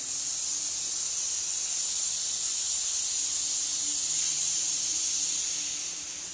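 Cleaner sprayed in one long, steady hissing blast onto an AK rifle stock being stripped of its old varnish, close and fairly loud, trailing off at the end with no talk.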